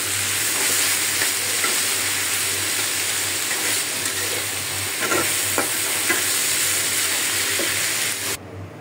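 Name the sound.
bitter gourd being fried and stirred in a pan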